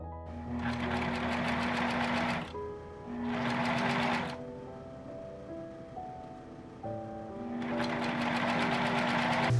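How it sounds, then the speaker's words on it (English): A sewing machine stitching the side seams of an Edwardian corset cover, three runs of fast even whirring and needle clatter with short pauses between, close and clear. "After finishing the front edges, I sewed up the side seams."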